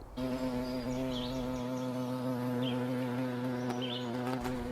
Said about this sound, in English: the buzzing sound was heard overhead